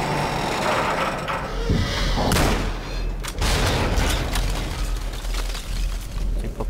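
Loud gunfire burst in the game Anabiosis: Sleep of Reason, a shot fired to knock down a ladder, with heavy booming and a rumbling crash that continues through the whole stretch.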